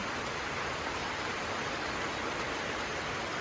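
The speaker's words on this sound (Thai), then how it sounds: "ตอนนี้ฝนตกขนาดเลย" Heavy rain pours down steadily during outdoor home cooking, a dense, even hiss that fills the whole stretch without pause or voices.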